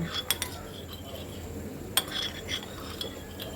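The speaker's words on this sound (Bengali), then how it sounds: "এবার এটাকে সুন্দর করে মিক্সড করব" A spoon stirs water mixed with cornflour and sugar in a small bowl, giving a series of light clinks and scrapes against the container at close range.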